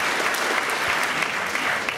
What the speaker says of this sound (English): Please give Larry a big round of applause